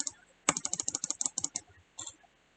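Fingers tap out a quick burst of about a dozen crisp clicks on a computer keyboard, close and quiet, followed by a short pause and a final couple of keystrokes.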